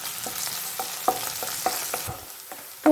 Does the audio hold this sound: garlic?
yes